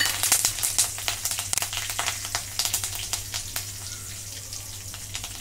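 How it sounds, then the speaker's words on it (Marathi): Curry leaves crackle in hot oil in a kadai along with cumin and fennel seeds, a dense burst of close sharp pops and sizzles that slowly thins out, with no voices. "कढीपत्ता तडतडला"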